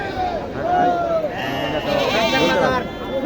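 Goats bleating at a crowded goat market, several wavering cries in quick succession up close, mixed with people talking and general market babble.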